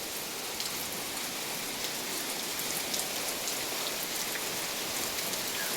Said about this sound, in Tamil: பெரிய மழையில் சாரல் மழை மாதிரி பெய்துகிட்டே இருக்குது.